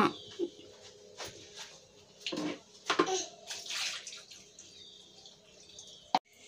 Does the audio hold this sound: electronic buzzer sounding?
no